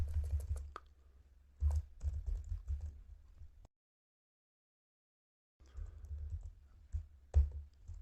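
Typing code on a computer keyboard while setting up an Entity Framework Core model: close clusters of soft keystroke clicks that break off into about two seconds of complete silence, then a fresh burst of typing with a few sharper key taps.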